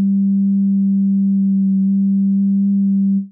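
A pure, steady sine tone from the Cherry Audio Sines software synthesizer holds one low pitch with faint overtones while its phase is adjusted, then fades quickly at the end. No voices.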